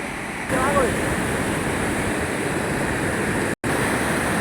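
Fast-flowing Godavari river water, swollen by rain, rushes in a loud, steady broadband roar that fills the scene, dropping out for a brief instant near the end.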